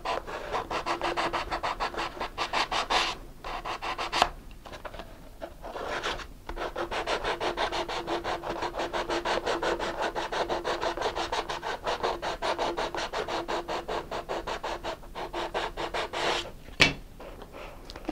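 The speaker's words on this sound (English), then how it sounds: "So the reason that you sand the inside of the tube is so it makes it easier to put on your transition." Sandpaper scrubs the inside of a cardboard model rocket body tube for a TARC rocket, a steady, close rhythmic rasping back and forth that continues with only a few brief pauses.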